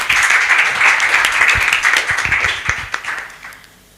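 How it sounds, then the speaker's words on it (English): Applause from a women lawyers' conference audience, loud and thick with many hands clapping at once, tapering off steadily over four seconds into a few scattered claps. "A round of applause, please."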